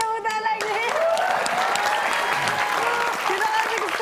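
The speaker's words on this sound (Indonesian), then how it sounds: "Oke, kita akan tepuk tangan lagi." Studio audience on a game show applauds in a sustained burst of clapping, with voices and cheers mixed in over the top throughout.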